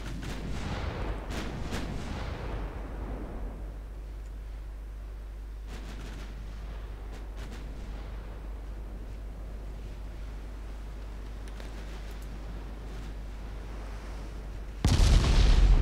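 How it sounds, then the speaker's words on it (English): Warship guns in Ultimate Admiral Dreadnoughts, some firing armor-piercing and some high-explosive shells, boom in a heavy rolling barrage over a constant low rumble, with a loud close blast at the very end. "Some of my guns are firing AP, some firing HE"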